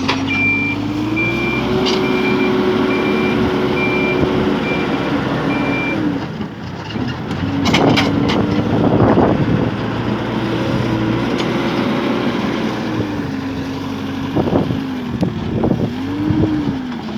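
Reversing beeps repeat steadily over the drone of a backhoe loader levelling a field boundary, its engine rising and falling as it works, with occasional knocks and clanks of the bucket; the machine sounds fairly close and no one speaks.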